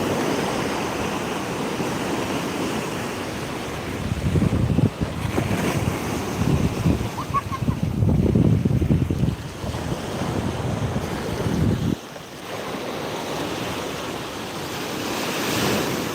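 Sea waves surge and crash on the shore at Old Digha beach during a rough tidal swell, a loud continuous roar of surf mixed with heavy wind buffeting the microphone, with swells rising and falling.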